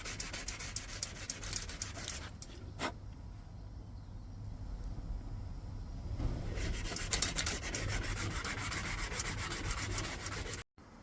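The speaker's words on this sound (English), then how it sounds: "Lots to do here, and some brass polishing," Brass fittings on Roman lorica segmentata armour being polished by hand: a close, steady scrubbing and rubbing that runs continuously, growing slightly louder in the second half before stopping abruptly.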